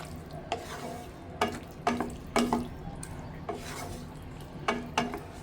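Fish curry simmers in a pan while a spoon stirs it in slow, regular scraping strokes against the metal over a low bubbling sizzle, close and fairly quiet, with no talk.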